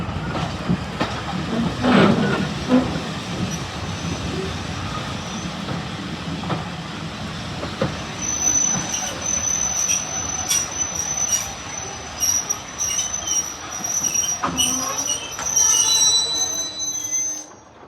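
A diesel train rumbles steadily into Harmans Cross station on the Swanage Railway, with a high metallic wheel squeal rising in the second half over the constant rolling noise.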